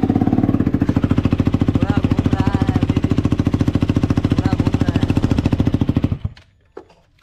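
An accident-damaged KTM RC motorcycle engine running loud and close with a rapid, steady pulsing thump, a voice speaking briefly over it, then cutting off abruptly near the end, leaving a few faint knocks.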